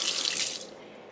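Water running from a kitchen tap while a boiled egg is peeled, a steady bright splashing stream that eases and softens toward the end.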